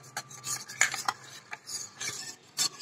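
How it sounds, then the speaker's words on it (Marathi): A spoon stirring coffee into milk for cold coffee, quick irregular scraping and clinking strokes against the cup, close and fairly loud for about three seconds. "आता ही कॉफी आपण दुधामध्ये ऍड करूया. व्यवस्थित मिक्स करून घेऊया."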